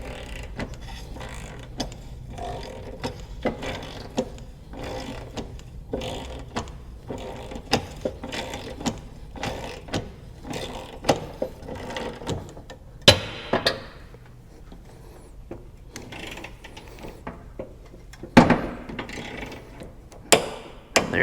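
A torque wrench set to 65 foot-pounds works on John Deere E110 mower blade bolts. Quick ratcheting clicks repeat in bursts, broken by a few sharper, louder clicks, close up with no talking.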